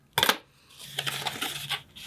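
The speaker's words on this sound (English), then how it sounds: "Then I'm going to cut it with my scissors, snap, snap." Scissors snip a paper puppet's tail: one sharp, close cut, then a run of quieter rapid snipping and paper rustle, with no talk over it.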